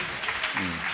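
A church congregation claps together during a worship gathering, a brief dense patter of hands mixed with a faint murmur of voices in a reverberant room.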